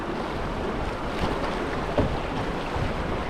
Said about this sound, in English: I'm in the down current splash here from the last rapids